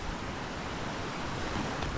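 Sea surf washes continuously at a shore near a fishing boat, a dense steady roar mixed with wind buffeting the microphone and no talk.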